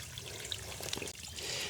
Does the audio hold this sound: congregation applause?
no